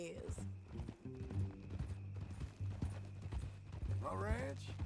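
Horse hooves clip-clopping in Red Dead Redemption 2, a steady rhythmic clopping at walking pace, close and moderately loud, running beneath game dialogue with a short whinny-like call near the end.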